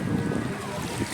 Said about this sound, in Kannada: ಅಲೆಗಳು ಬರುತ್ತೆ ಇಲ್ಲಿ ನೋಡಿ